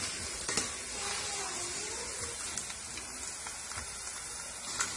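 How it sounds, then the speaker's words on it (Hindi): An herbal remedy boils in a pot, giving a continuous dense sizzling and bubbling hiss with scattered small pops and crackles, steady and close throughout, with no talking. "हमें इसे थोड़ी देर और इसी तरीके से उबलने के लिए छोड़ना है।"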